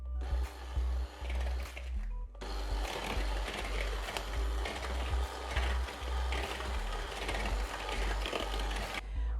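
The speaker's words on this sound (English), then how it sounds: "I'm going to whisk that together." An electric mixer whisks butter and sugar together in a bowl for a tinned peach cake, a steady close mechanical whirring and rattling that stops briefly near the start before running on, with no talk.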